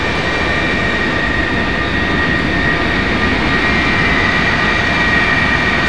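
A Boeing 707 jet engine spools up during a start sequence in a flight simulator. It makes a steady, loud turbine roar with a high whine and a dense low rumble, holding constant and heard alone.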